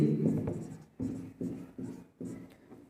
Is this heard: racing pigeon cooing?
no